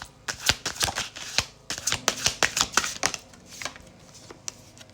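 Tarot cards are shuffled by hand close up, making quick bursts of crisp riffling flicks with short pauses, and the sound tapers to softer handling near the end.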